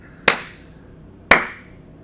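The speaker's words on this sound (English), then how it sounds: "Slow clap." Two single hand claps, about a second apart, ring out sharply and close in a slow, deliberate clap with no talking.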